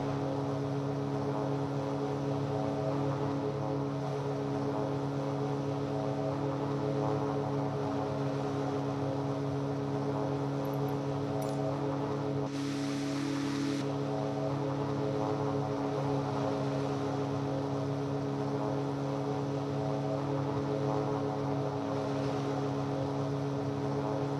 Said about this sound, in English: It's a super useful little ultralight.